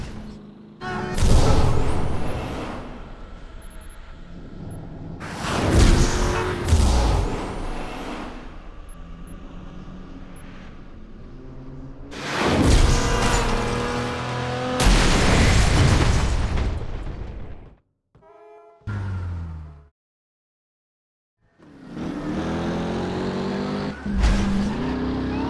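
Cars crash in the video game Driver San Francisco as a takedown plays out, with loud repeated impact bursts, roaring engines and skidding, then a sudden cut to silence before engine noise returns.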